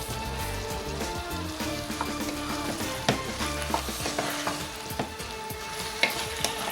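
Minced meat with spices fries in a pan for Tunisian bricks, giving a continuous close crackling sizzle with occasional sharp pops and spoon taps.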